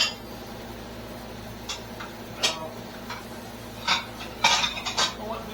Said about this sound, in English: I'm going to set my bowl up now.